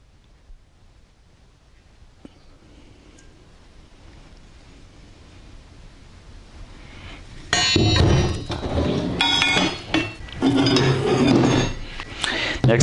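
Heavy steel wrenches, including a 23-inch New Britain, clink and clatter as they are handled, with loud metallic knocks and scrapes in bursts during the second half after a quiet stretch.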